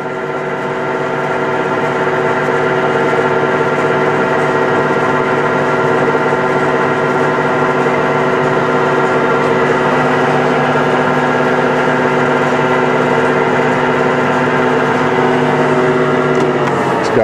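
A Moore #2 jig borer runs in low speed range, holding a steady mechanical hum with layered tonal whine that stays even and continuous throughout, with no talking.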